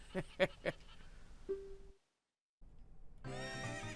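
Horse neighs in the video game Ocarina of Time: a few short whinnying bursts, then a held tone, a brief gap of silence and a rising, layered musical sound to finish.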